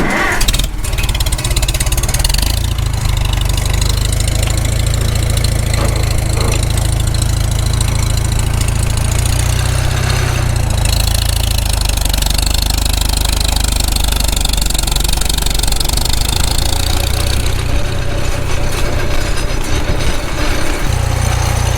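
A Farmall Super M tractor pulls out onto the road. Its engine runs loud and close without a break, a steady low throb with a knocking chug that lifts as it takes off.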